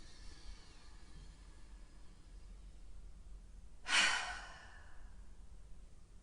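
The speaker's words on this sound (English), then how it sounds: "breathing in through the nose and exhaling through the mouth" A single breath exhaled through the mouth during a yoga balancing-pose session, one soft airy burst near the mic after a quiet stretch, fading out slowly.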